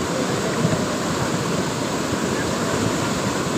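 A loud, continuous roar of rushing water, steady and broadband like a swollen stream in flood, with no voices; floodwater of the Girna river.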